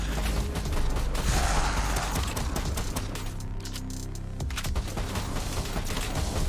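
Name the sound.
weapon reloading in video game Rift Loopers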